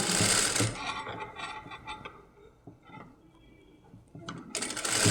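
A sewing machine stitching a frill onto a kids' crop top, steady close rapid mechanical whirring that slows and softens midway before running at full speed again.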